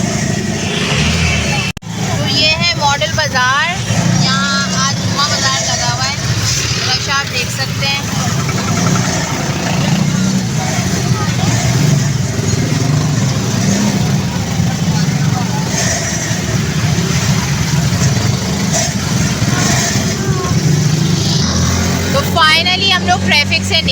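Busy street traffic in Kasur, with motorbikes and chingchi rickshaws rumbling and buzzing past at close range, horns and engine drone in a steady wash, while someone talks over it and other voices babble.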